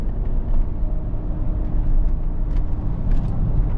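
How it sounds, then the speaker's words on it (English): A 2005 Mercedes SL 65 AMG V12 roadster driving up winding roads, giving a steady, deep engine drone with road and wind rumble from inside the car, fairly loud, with no talk. "driving a luxury Mercedes up these windy roads actually doesn't feel half bad, especially for a car from 2005"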